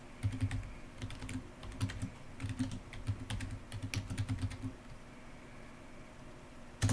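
Rapid keystrokes on a computer keyboard as a project name is entered, steady clicking bursts in short runs with pauses, ending in a single firm key press, over a low background hum.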